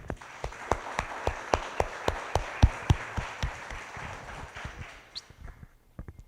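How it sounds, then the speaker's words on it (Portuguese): An audience at a talk applauds, giving a steady patter of fairly regular claps over a continuous hiss of broader clapping that fades toward the end, with no speech over it. "Eu já quero, de antemão, saudar a vocês com uma salva de palmas pelo gesto que vocês já fizeram."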